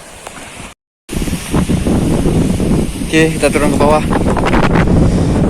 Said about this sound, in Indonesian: Tapi angin nih, kencang. Kencang sekali anginnya nih.